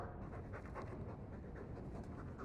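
A dog pants in Dragon Age II, fast rhythmic huffing breaths repeated steadily and close, quiet and alone without talk.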